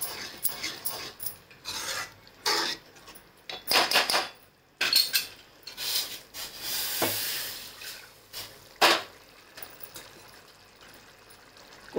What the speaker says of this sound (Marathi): कुकर धुवून टाकते